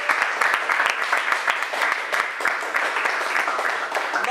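An audience at a Gujarati movie promotion event breaks into loud, dense applause, many hands clapping close and continuous for the whole stretch.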